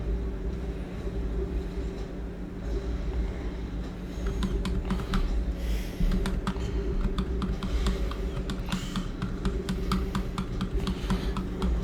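During a World of Warcraft raid played on an AMD Ryzen 5 1600 PC, computer mouse clicks and keyboard taps come in scattered bursts over a constant low hum, growing busier in the second half. No voices are heard.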